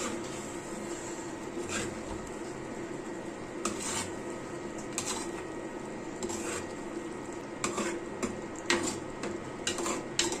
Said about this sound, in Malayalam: ഇനി നല്ലപോലെ ഇളക്കി ഒന്ന് കൊടുക്കാം